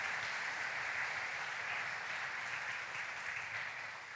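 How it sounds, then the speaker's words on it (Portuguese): A church congregation applauds, a broad, even wash of clapping from many hands that holds steady for several seconds at moderate distance and fades slightly toward the end. "Vamos aplaudir o nosso Deus soberano."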